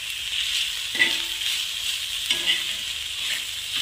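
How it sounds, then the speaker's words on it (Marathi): Ginger, spices and coconut roast in a pan under a steady sizzling hiss, with a couple of spatula scrapes and knocks against the pan. "हे सर्व पदार्थ आपण भाजून घेणार आहोत आणि त्यानंतर आपण टाकणार आहोत खोबरा"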